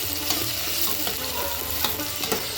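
Onions sizzle steadily in a hot pan while cooking vegetable kurma, with occasional scrapes and stirring clatter over the constant frying hiss.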